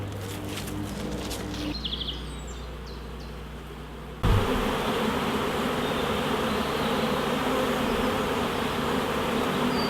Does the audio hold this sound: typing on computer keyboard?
no